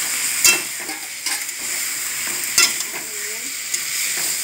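Egg and potato dropped into spiced oil in a pan, frying with a constant close sizzle, punctuated by a few sharp clinks and scrapes of a spatula stirring.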